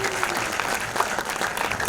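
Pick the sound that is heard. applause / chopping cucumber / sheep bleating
applause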